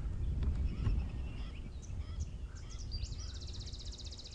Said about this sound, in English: And we can hear a white-bellied sunbird calling that beautiful little chirr.